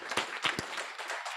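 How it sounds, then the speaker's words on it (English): Audience applause at a guide dog graduation ceremony: a short burst of clapping with a few sharper individual claps standing out from the steady patter. "I think that one just deserves a round of applause."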